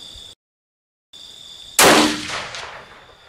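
A scoped rifle fires a single loud, sharp shot from an unheld bench rest outdoors, cracking suddenly after a stretch of quiet ambience and trailing off in a long, decaying echo.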